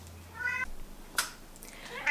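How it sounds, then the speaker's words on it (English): A house cat meows a few times in a quiet indoor room, short faint calls spaced apart with a soft sharp noise between them. "I went and got my cat because I know you could hear her in the background meowing"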